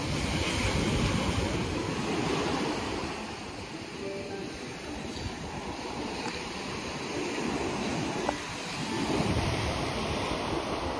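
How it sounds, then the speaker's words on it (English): Ocean waves roll and break on a beach at sunset, a steady broadband wash with swelling surges and light wind noise against the microphone, continuous through the whole stretch. "The waves are crashing."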